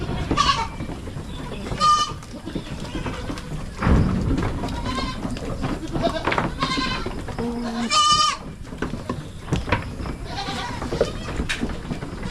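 Goats on a farm bleat in a series of loud, wavering calls, some near and some farther off, spread across the clip over a busy backdrop of other farm animals and faint chicken sounds.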